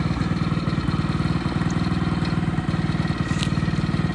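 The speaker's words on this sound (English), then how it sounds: "It's usually pretty rare that built engines fire up first pull." A small go-kart engine idles steadily right after firing on the first pull, a close, even, fast putter with a rattly mechanical chug and no voices.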